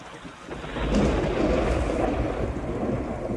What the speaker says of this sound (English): it rained, and it rained, and it rained. The deluge.